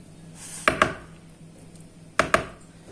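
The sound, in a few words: spoon tapping in a pan of béchamel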